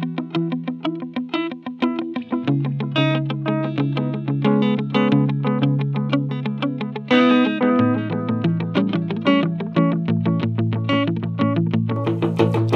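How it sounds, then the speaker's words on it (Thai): Electric guitar played through a NUX Mighty Lite BT portable amp with a heavy delay effect, notes ringing and repeating into one another in a steady, loud run of picked phrases with no talking. "เอาดีเลย์เยอะๆเลยอันนี้สุดเลย"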